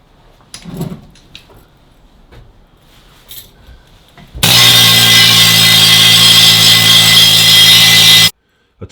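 A power tool stripping paint off a welded steel linkage, a loud, steady high-pitched grinding whine that starts abruptly midway after quiet handling noises and runs unbroken for about four seconds before cutting off.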